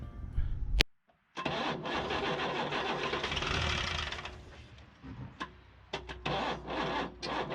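A rebuilt 1975 Chevy stepside diesel pickup cranks over: a short burst, a pause, then a rough clattering start that settles and falters, with sharp knocks and clicks near the end.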